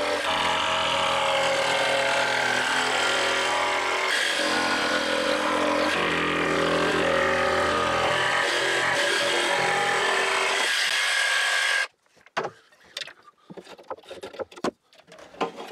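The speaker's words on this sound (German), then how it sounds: "das schneiden wir jetzt mit der Stichsäge aus" A jigsaw cuts out a hole in wood, buzzing loud and close in one long continuous run, then stops abruptly, leaving scattered knocks and handling sounds.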